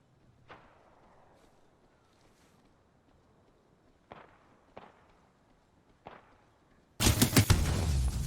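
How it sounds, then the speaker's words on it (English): Charge rifle shots in an Apex Legends competitive match. Several sharp, spaced cracks ring out at moderate distance over quiet ambience, each with a short decaying tail, before a dense, loud burst of sound. "Charge rifle goes to work."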